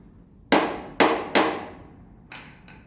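A part is tapped into a G1021 thickness planer during a repair, with three sharp close metallic hammer strikes followed by two softer taps, each ringing briefly.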